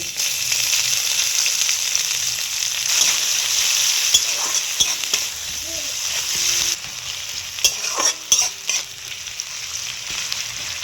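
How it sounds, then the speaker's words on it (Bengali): Chopped onions fry in hot oil with panch phoron, bay leaf and dried red chillies for a hilsa fish head and ivy gourd greens dish, giving a steady, loud sizzle close by, broken by occasional stirring clinks and scrapes, with no talking. "পেঁয়াজটা একটু লাল লাল করে ভেজে নিতে হবে।"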